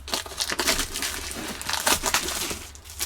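Packaging for a Saker 4-inch electric mini chainsaw is cut and torn open. Close, busy crinkling and rustling of plastic and cardboard comes in uneven bursts, with no talking.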